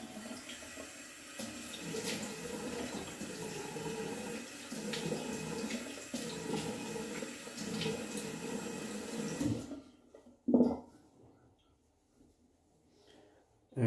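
Tap water runs and splashes as a face is wetted before a traditional shave, a steady close rushing that stops abruptly, followed by a brief splash and near silence.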